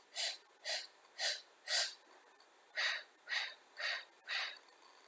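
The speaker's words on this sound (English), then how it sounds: "A staccato way of breathing requires you to have labored breaths." Eight short, sharp breaths puffed out in quick spurts, in two groups of four with a brief pause between, close and fairly quiet.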